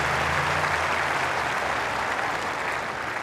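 A clay-court tennis crowd at the 2000 Monte Carlo semifinal, Hrbaty against Gaudio, applauds a long rally with loud, sustained clapping that fades slightly toward the end.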